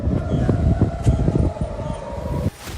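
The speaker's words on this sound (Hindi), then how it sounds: "सायरन्स हो रही हैं।" A loud wailing air raid siren drones steadily with heavy rumbling background noise in Israel during the Iran-Israel war, then cuts off abruptly near the end.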